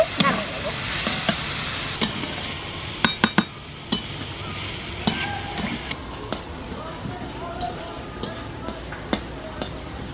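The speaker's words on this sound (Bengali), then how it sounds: "এবার সব কিছু নেড়ে চেড়ে আর একটু ভালো করে ভেজে নেব" Chicken with meat masala frying in a pan sizzles under repeated scraping and clinks of a spoon against metal as it is stirred, with a few sharp knocks early on.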